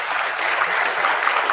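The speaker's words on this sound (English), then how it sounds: "can you clap for Santosh Kumar sir?" Students in a conference hall applaud a speaker at a national conference on metabolic disorders, a steady wash of many hands clapping together, fairly loud and continuous with no talking over it.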